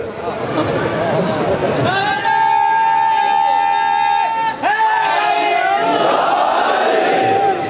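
Large crowd at a Muharram majlis gathering chanting a religious slogan in unison, loud sustained voices with a held chanted tone, a brief break, then the chant resumes strongly.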